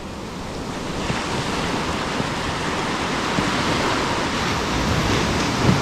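Calm sea waves wash onto a beach just after a storm, making a steady broad rushing wash with soft swells and light wind noise.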